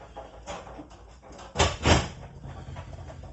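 A horsebox's rear doors are folded back and locked with an industrial aluminium latch, giving two dull knocking thuds over steady outdoor background noise, close by with no talk.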